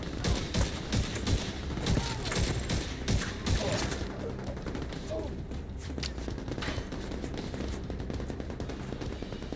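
Rapid automatic gunfire in The Division 2 shooter game, dense bursts of shots with thumps and mechanical clatter over several seconds, loud and close, with a voice talking over parts of it.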